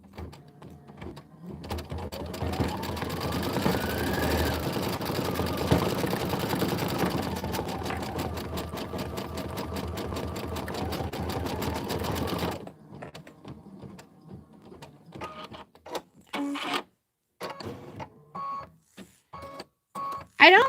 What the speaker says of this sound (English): You're going to stitch out 5 and 6, and then you're going to sew it all together.